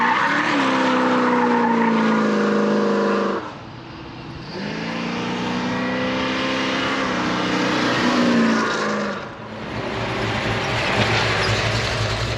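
A 1972 Oldsmobile Cutlass with a built 455 cubic inch V8 drives past loud and close, the engine roaring and rising in pitch through hard acceleration, dipping briefly, then surging again with tire noise.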